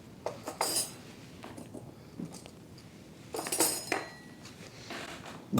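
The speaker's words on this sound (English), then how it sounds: "Dinner forks, a lot of dinner forks." Metal dinner forks clink and chime against one another as a handful is sorted and handled, with several bright bursts of jingling separated by quieter pauses, fairly close; no voices.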